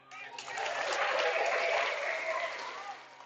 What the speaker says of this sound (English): That gets a round of applause for the RBI triple.